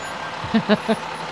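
Three short, evenly spaced horn toots from a volunteer fire engine in a Christmas parade sound over low traffic rumble, moderately close.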